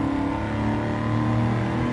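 A car with an equal length mid pipe exhaust revs in Gran Turismo 7, giving a steady, loud, buzzing drone with no talk over it.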